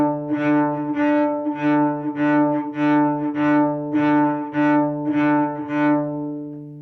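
A cello plays a series of Baroque-style smile bow strokes, each sustained note swelling with added bow weight through the middle and easing off at the end, in a steady repeated pulse of about nine strokes, close and clear.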